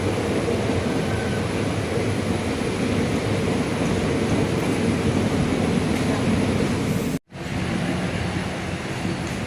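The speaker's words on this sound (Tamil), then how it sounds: "நம்ம எதிர்த்தா போல் பார்க்குற ட்ரெயின் தஞ்சையிலிருந்து திருச்சிக்கு செல்லும் diesel electric multiple unit passenger special passenger train" A diesel electric multiple unit passenger train running between Thanjavur and Trichy gives a loud, steady rumble and rolling roar throughout, broken only by a brief dropout near the end.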